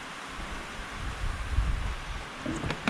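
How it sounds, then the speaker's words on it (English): Soft, steady rain patter with low rumbling and wind noise, fairly faint and even throughout. "She's raining."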